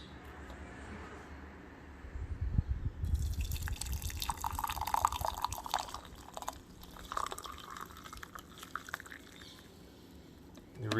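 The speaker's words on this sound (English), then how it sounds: "I can just pour off here now and strain it so y'all can see." Homemade herbal tea, steeped until the herbs settle, is poured off and strained, a soft trickling and dripping of liquid that starts after a quiet moment and continues close by at low volume.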